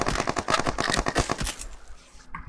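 Distant gunfire in a battle royale video game: rapid, closely spaced automatic bursts rattle steadily for about a second and a half, then cut off into a quieter tail.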